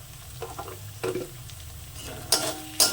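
Chilli powder and turmeric sizzle in hot oil in a pan while the spices are stirred, giving a steady fry broken by a few sharper clinks and scrapes of the spoon against the metal, with no voices.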